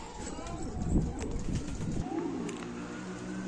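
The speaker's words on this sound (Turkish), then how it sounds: "Bir tane siyah posta var şurada." Homing pigeons coo softly in a loft, low rolling calls that repeat under background noise, with someone talking nearby.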